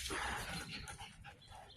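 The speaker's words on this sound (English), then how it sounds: "Dogs are barking." Dogs bark and whimper faintly in a short burst, a few quiet yips and barks against a noisy, muffled background, with no voices.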